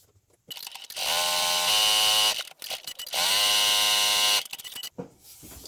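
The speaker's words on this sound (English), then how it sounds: "So I'm going to add an extra 2 lines of stitching down the centre." Two sustained bursts of a sewing machine's high, buzzing whine run close as lines of stitching go down a fabric strap for a bag, each roughly a second and a half long, with brief handling noise between.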